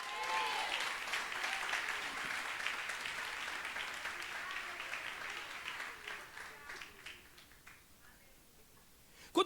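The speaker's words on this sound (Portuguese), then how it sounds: "Alguém vai aplaudir Jesus esta noite?" A church congregation claps and applauds loudly, the dense clapping holding strong before thinning out toward the end, with a few voices audible in the crowd.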